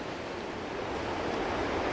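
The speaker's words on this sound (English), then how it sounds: "falling asleep every night to the sound of the ocean" Ocean waves near a castle on the coast, a steady, broadband wash of surf rushing continuously at moderate volume, gradually swelling slightly, with no one speaking.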